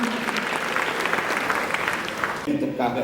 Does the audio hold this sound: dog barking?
no